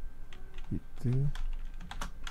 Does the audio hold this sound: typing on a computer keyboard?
yes